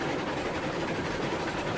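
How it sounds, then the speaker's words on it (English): Train rolling along rails in RailRoads Online, a steady, continuous rumble of wheels and rail noise with no pauses, heard alone. "Kind of surprised that it's slowing the train down"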